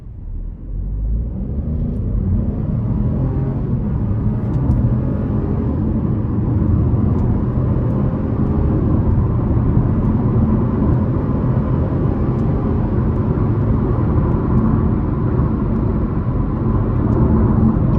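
A 2025 Chevy Trailblazer LS AWD with a turbocharged 3-cylinder engine accelerates under a brisk pull, a steady loud low engine drone heard from inside the cabin, holding level throughout with no talking.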